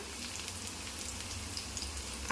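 Cumin and mustard seeds hit hot oil with garlic for a drumstick and tomato curry, producing a soft, even crackling sizzle dotted with faint pops.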